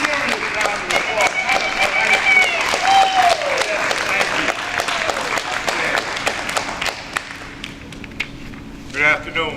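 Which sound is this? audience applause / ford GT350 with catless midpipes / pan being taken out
audience applause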